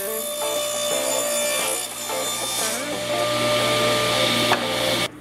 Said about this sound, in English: Cutting the back of the box out to 13 inches long.